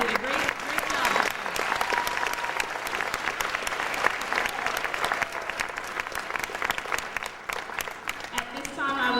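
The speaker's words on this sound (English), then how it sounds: "Let's give them a round of applause" A crowd at an awards ceremony applauds for about nine seconds in a sustained, busy patter of claps, with voices and cheers faintly mixed in.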